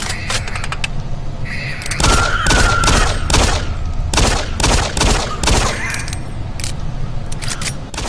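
Rapid bursts of gunfire ring out while shooting enemies in the video game Doom 3, loud shots clustered together with brief gaps between volleys and no speech over them.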